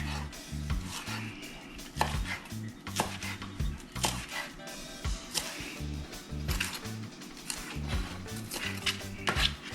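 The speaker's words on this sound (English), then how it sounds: "Give that cilantro a rinse, chop it up, throw it on in there." A knife chops fresh rinsed cilantro on a board for snapper ceviche, a busy run of close, repeated chopping knocks with an uneven rhythm, loud and steady from start to finish, with no talking.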